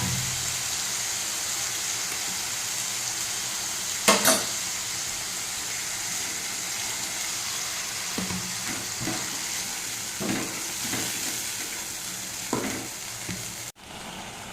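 Onion and potato frying in a pan with tomato paste, a continuous sizzle with occasional sharp stirring knocks and scrapes, and no speech over it.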